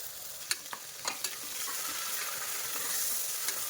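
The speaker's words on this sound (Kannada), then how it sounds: "ಈರುಳ್ಳಿ ಪೇಸ್ಟನ್ನು ಚೆನ್ನಾಗಿ ಇದ್ರ ಜೊತೆ ಮಿಕ್ಸ್ ಮಾಡ್ಕೋಬೇಕು" Onion paste and chopped tomato stirred and frying in hot oil for a bread pulao, a soft continuous sizzle broken by a few sharp scraping clicks of the spoon against the pan.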